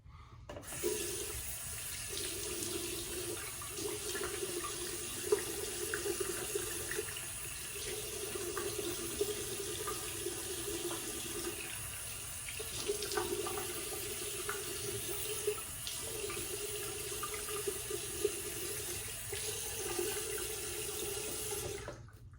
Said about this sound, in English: let me go ahead and get rinsed off